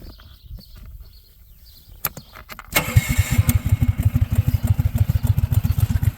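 Predator 420cc engine fitted to a Hyundai golf cart cranks and fires up, then runs with a loud, steady, rapid chugging thump close by after a few seconds of quieter clicks.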